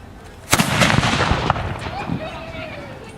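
A single loud gunshot booms from a hackbutt, an old gunpowder firearm on a wooden stock, followed by crackling and a lingering rumble as voices murmur nearby.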